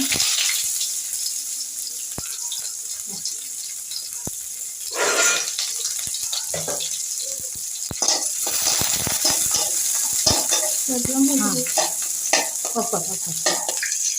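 Chopped onions for paneer chop fry in a pan with a continuous close sizzle, while a utensil stirs and scrapes and a few louder hisses and clinks break in.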